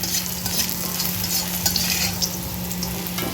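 Bitter gourd frying in hot oil gives a dense, steady crackling sizzle with a faint low hum underneath, close and even throughout, with no one speaking.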